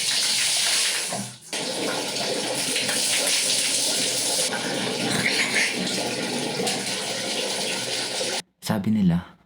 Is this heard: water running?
yes